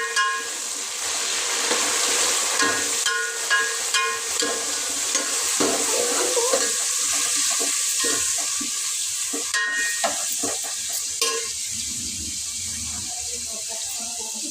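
Onions fry in a pan with fresh coriander and mint for egg biryani, giving a continuous close sizzle broken by occasional stirring scrapes and clatters.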